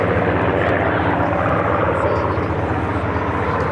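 A Spitfire FR-14 with its Griffon engine passes at an airshow, a broad, roaring propeller drone that stays steady and loud throughout the short stretch, with no pause or gap.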